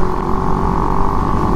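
A motorcycle engine runs steadily for a moment, a continuous mid-pitched drone with slight revving texture, close and loud with no talk.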